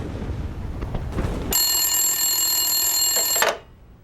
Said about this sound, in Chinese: 电话没人接。